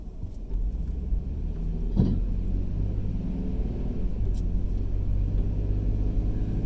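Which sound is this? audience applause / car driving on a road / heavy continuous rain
car driving on a road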